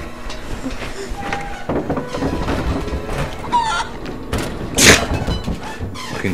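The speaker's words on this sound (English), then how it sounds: "Fucking chicken." Chicken clucking in the Lego Jurassic World video game, a few short clucks mixed into busy game sound effects, thumps and music at steady loudness.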